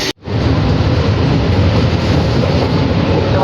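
Local train 08119, the Panskura–Digha special, rolls along the line at high speed, its loud continuous rumble and wheel noise close and steady after a brief quiet start.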